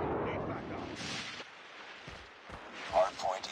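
A napalm strike in a military shooter game sets off a short run of muffled booms and rumbling bursts under game voice callouts, fairly quiet overall.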